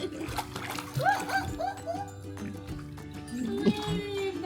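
A dog laps at water with wet splashing and dripping sounds, up close in a home, while several people talk and call out around it.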